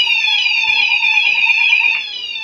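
Gent Xenex Fire Cryer Plus HD fire alarm sounder under test, sounding a loud, steady high-pitched warbling tone that holds throughout, close by and with no talk over it.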